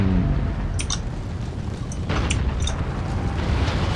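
Cannon fire bombardment from Empire Total War, with low rumbling booms, scattered sharp cracks and a dense battle din throughout.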